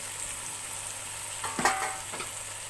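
Potato and capsicum pieces fry in a pan with a steady faint sizzle, broken around the middle by a few soft scraping stirs and light clinks.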